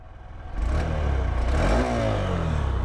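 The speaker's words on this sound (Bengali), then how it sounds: "তোমাদেরকে আমি একবার এক্সস্ট সাউন্ডটা শুনিয়ে দিই" A 2025 Honda SP 125 motorcycle engine starts and settles into a steady, throbbing exhaust idle, with a brief rise in revs, loud and close.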